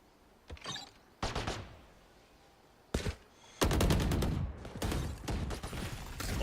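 Missiles fired in the video game Overwatch, bursts of rapid rattling launches and booming impacts in uneven volleys, growing denser and louder toward the end.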